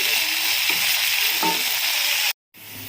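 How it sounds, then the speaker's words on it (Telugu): Mint leaves frying in oil in a pan while making a peanut and mint chutney, a loud continuous hiss and crackle with faint stirring scrapes, cut by a brief silence before the sizzle resumes more quietly. "ఇలా మొత్తం పుదీనాని యాడ్ చేసుకున్న తర్వాత పచ్చివాసన పోయేంత వరకు కూడా నీట్గా వేయించుకోవాలి"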